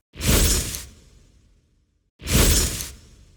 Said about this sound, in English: added some squirt sounds for like blood squirts using a wet towel